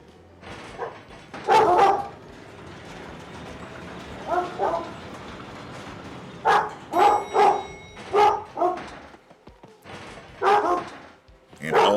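Dogs bark in Paper Mario: The Thousand-Year Door at Riverside Station, with several loud bursts of barks and yips spread across the stretch, separated by quieter background game sound.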